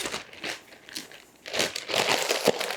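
Regular Ziploc plastic bags being handled, giving crinkly rustling in short bursts, quieter at first and then steadier and louder crinkling in the second half, with no talk.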